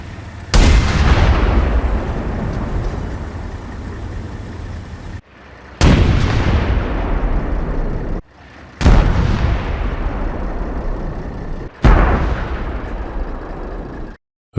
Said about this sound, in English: So let's compare a few cannons.